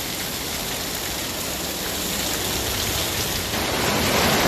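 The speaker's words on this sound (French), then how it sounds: "Rectification, je crois que c'est une grosse pluie." Heavy rain pours steadily during a stormy evening in Ankara, a dense, continuous hiss with no breaks that swells slightly louder toward the end.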